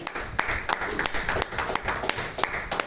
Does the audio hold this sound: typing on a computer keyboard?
no